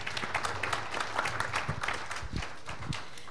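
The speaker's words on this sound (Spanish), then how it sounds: "creo que se merecen un aplauso nuevamente" Audience at an indigenous Mesoamerican pre-congress session applauding the speakers, a soft, scattered patter of clapping heard from a distance with faint voices mixed in.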